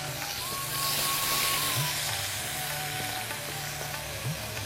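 Onion, garlic and ginger frying in hot oil for a kakrar jhal crab curry, a continuous broad sizzle holding steady at moderate loudness, with faint background tones.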